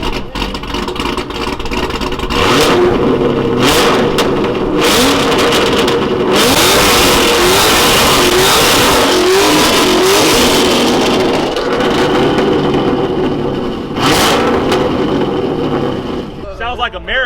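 A Corvette C7 at a car meet revs its engine hard in repeated rising bursts, loud and close, with crowd noise and people talking over the roar.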